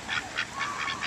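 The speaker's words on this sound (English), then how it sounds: "Here he comes as the baby duck approaches us." Several ducks, including a baby duck, honk and quack in repeated bursts at moderate distance outdoors, about five calls in quick succession with no talk over them.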